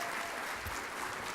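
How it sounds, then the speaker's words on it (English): A crowd claps steadily, a dense, even wash of applause holding at the same loudness throughout. "you ought to give yourselves a round of applause for that"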